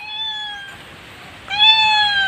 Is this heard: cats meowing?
yes